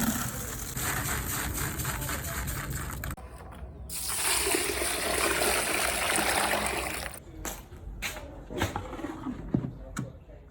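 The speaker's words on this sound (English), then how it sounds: "Now I'll pour water and soak the grains." Water pours and gushes from a stream into a container of grains set to soak for pap, a steady splashing rush that pauses, resumes more brightly, then gives way to scattered knocks and handling sounds.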